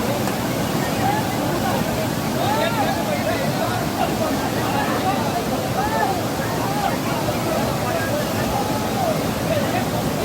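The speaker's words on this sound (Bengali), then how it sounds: "কৃত্রিম সরজু নদীতে সকলে স্নান করছে, মজা নিচ্ছে" A crowd bathes and splashes in the artificial Saryu river channel, loud running water and surf-like wash continuing steadily throughout, with a babble of many distant voices mixed into the rush.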